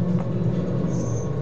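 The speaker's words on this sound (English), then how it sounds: "Is this David Blaine's train?" A train in a film rumbles past in a steady, continuous low rolling roar, with no voices.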